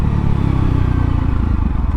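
Honda CRF300L motorcycle with a MotoX exhaust, a close, loud, steady low engine drone with a rhythmic pulsing throb, no talking.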